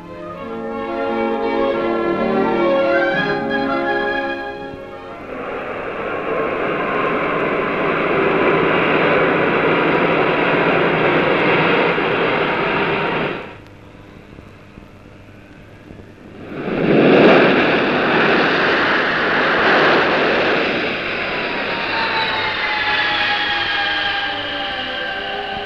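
Jet engine roar of a Vickers VC10 airliner in BOAC service cruising in flight, a steady broad rumble that drops briefly and swells back, with no talk over it.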